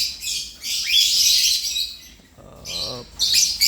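A pet bird, likely a young parakeet, sings in bright, close bursts of rapid chirps and tweets, pausing briefly before a short scratchy squawk and another burst of chirping.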